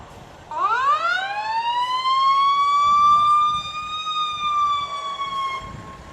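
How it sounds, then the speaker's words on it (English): Fire truck sirens wail through a parade, a loud rising-and-falling siren tone that swells in quickly, holds steady for several seconds and then fades, with no talking. "Lots of fire trucks, all shined up for the day."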